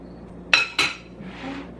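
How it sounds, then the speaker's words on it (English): Pasta salad is dished into a bowl with two sharp, close dish clinks in quick succession, followed by a softer scraping of food settling. "I'm just gonna grab a bowl and dish up"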